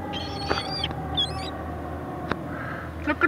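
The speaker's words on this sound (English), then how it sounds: "Look at all those hungry seagulls." Hungry seagulls waiting to be fed French fries give a few short, piercing calls in quick bursts over a low, steady background hum.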